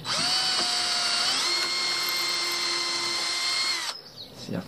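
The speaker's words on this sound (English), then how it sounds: "that's why I'm drilling this one so far." A power drill with a long bit whines steadily at high speed for about four seconds, boring into wood on a small boat's transom, then spins down and stops, close and loud.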